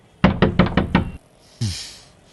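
Five hard, evenly spaced knocks on a door, loud and close, followed by a single heavier thud with a short ringing decay; no voices.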